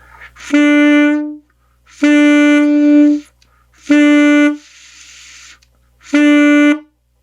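Four separate saxophone notes, each about a second long with pauses between, are tongued with varying reed pressure at the attack and release, loud and close in a warmup exercise.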